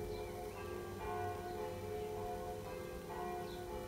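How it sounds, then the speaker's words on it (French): Church bells ring continuously, their overlapping tones sustained and resonant, heard from a moderate distance with no talking. "Et les cloches résonnent."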